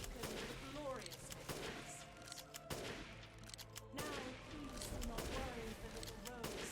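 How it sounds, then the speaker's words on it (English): Rapid bursts of gunfire ring out in Resident Evil Village, with several clusters of shots fired close together in a repeating rhythm over game music and effects, fairly faint overall. "only shooting her legs for those last 2 shots"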